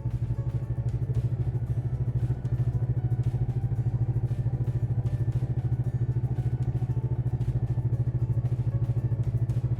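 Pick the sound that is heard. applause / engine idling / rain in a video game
engine idling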